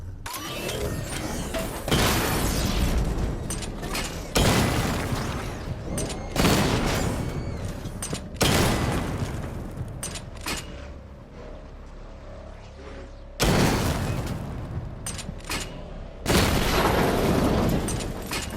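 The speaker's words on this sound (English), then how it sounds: "Destroy targets to charge up weapon energy and activate missile barrage" Missile barrage explosions in Batman: Arkham Knight on PS4/PS5: heavy, booming blasts roughly every two to three seconds, with a mechanical rumble filling the gaps. Loud and close, with no talking.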